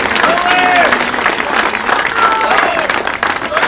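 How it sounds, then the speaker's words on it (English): An audience at a senior day ceremony claps for diploma candidates, a dense, loud burst of steady applause filling the room with scattered cheers and voices mixed in. "then we'll give them a round of applause."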